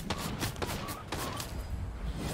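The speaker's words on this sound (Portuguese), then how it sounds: "Nossa, tem mais tiro ali em cima." Rapid gunfire from the video game Fortnite, a dense fusillade of sharp cracks packed close together over a constant loud background, with no clear pauses between shots.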